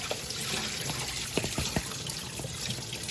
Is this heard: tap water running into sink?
yes